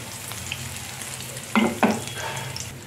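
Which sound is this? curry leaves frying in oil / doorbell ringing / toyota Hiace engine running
curry leaves frying in oil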